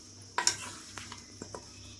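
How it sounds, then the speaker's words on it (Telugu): Raw mango pieces for avakaya pickle are mixed with spices, with one louder clink followed by a few faint scrapes and taps, quiet and close. "ఇప్పుడు మనం ఒకసారి దీన్ని బాగా కలుపుకుందామండి"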